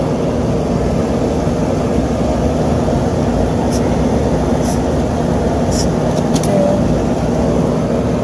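A belt-driven HVAC blower fan runs loud and steady, a constant broadband rushing hum that holds unchanged throughout with a few faint high ticks along the way.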